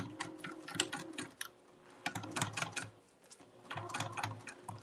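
A sewing machine runs through cork fabric in three stretches of fast, rattling stitching separated by brief pauses, close and moderately loud, with no voices.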